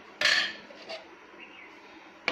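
A metal pot lid lifted off and set back on a pot of brown rice cooking with oil and lemon, giving a bright clatter at the start, a light tap midway, and a final clink, close and alone.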